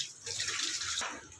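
Tap water running and splashing in a sink while dishes are washed at home, a soft, steady stream heard faintly from a short distance.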